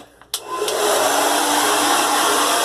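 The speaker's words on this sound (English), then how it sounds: "I'm going to experiment a little bit with the sound on the blow dryer." A hair dryer switches on with a click and roars steadily, a loud continuous whooshing hum close by with no talking.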